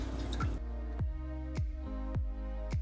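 Water drips off a raw, freshly brined turkey, about six slow, evenly spaced drops that land clearly and close after a brief splash at the start, with no one talking.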